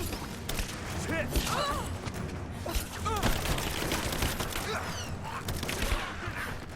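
Gunfire in Rise of the Tomb Raider on PS4, a busy stretch of shots, thuds and mechanical clatter at steady loudness, with game voices shouting over it.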